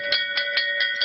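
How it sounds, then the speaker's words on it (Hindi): Temple bells ring during aarti at the Kheer Bhawani shrine in Kashmir, struck in an even rhythm of about four clear metallic chimes per second, bright and close, with no voices. "वर्षों बाद माता खीर भवानी की घंटा घड़ियाल के साथ निर्मल आरती हुई है।"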